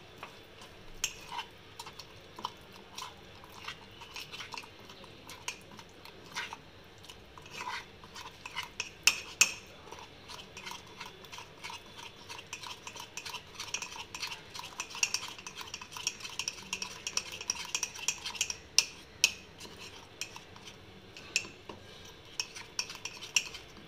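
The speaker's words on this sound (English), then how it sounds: "Just mix it, put 1 tablespoon of milk. Mix it really well." A spoon stirs mug cake batter mixed with a tablespoon of milk, a quiet steady scraping broken by light rhythmic clinks against the mug, close and faint with no talking.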